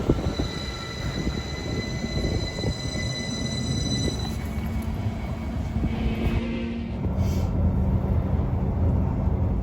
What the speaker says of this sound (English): here's a train right now, the one-a-day stopping service there.